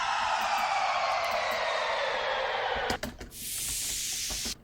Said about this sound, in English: It's also this siren riser.